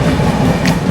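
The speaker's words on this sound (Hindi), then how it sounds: "बनारस सुपरफास्ट एक्सप्रेस 130 पर फ्लैट भाग रही है" Banaras Superfast Express running at about 130 km/h on an Indian railway line, heard from inside a 2AC coach as a steady loud rumble of wheels on rail with no voices.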